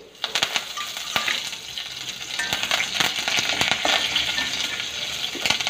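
Curry leaves dropped into hot oil give a bright, crackling sizzle with sharp spitting pops scattered throughout, close and loud, with no voices.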